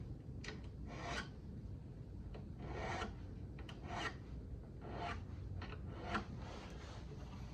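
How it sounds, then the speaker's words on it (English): Guitar frets are filed with small files in short, repeated soft rasping strokes, quiet and close, with pauses between the strokes. "I've got all the burr taken off with those little files"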